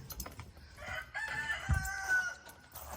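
A rooster crows once across the whole stretch, a drawn-out rising and falling call at moderate distance, with faint clucking and farmyard noise around it.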